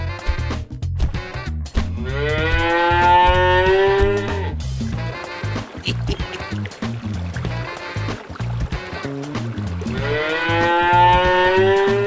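A cow moos in long, loud drawn-out calls, one then another near the end, over a busy background of splashing water and other animal noise in a jungle farm diorama scene.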